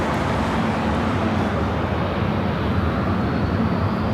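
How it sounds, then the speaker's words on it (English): A WestJet Boeing 737-700 jet departs LAX with a loud, broad, continuous engine roar that stays steady and close throughout, without any talk over it. "That is WestJet Flight 1425 heading to Edmonton, Canada. The 737-700."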